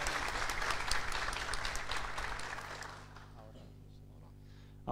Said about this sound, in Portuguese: Um salve de palmas aí.